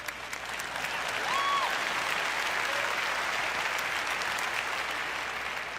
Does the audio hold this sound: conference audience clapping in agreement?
yes